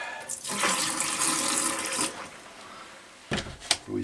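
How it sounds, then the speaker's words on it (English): Antifreeze is poured down a drain at a deer camp in Upper Michigan, a continuous gurgling liquid rush for about two seconds, then a quieter trickle followed by a few short splashes. "we're going to pour some antifreeze down the drain, and it'll displace the water that's right in here, run it down"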